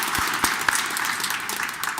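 A church congregation at an Easter Mass in a Korean Catholic parish in Detroit claps in a brief, even round of applause, moderately close with a few sharper claps.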